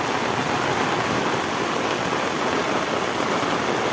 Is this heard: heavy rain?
yes